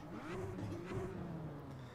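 A car engine in a sim racing video game drones steadily, a faint, thin whine rising and falling slightly through the lap with no other sounds over it.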